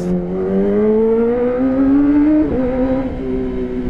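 A Kawasaki ZX25R motorcycle engine with new spark plugs revs loud and close, its high whine climbing steadily and then dipping briefly before it settles. No one talks over it.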